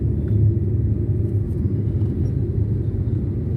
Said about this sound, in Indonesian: Kadang suara ban kita sendiri tuh kedengeran.